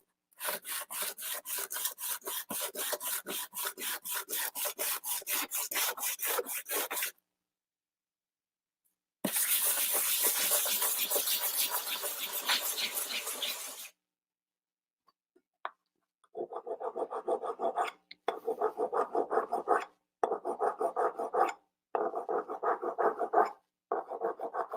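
Filing on a custom Star Wars lightsaber hilt gives harsh, chalkboard-like scraping in close, loud bursts of rapid strokes, separated by pauses and ending in shorter choppy passes.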